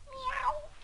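A voice imitates an alley cat, giving one short, drawn-out meow that is fairly faint and heard alone.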